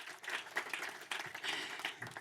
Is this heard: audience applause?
yes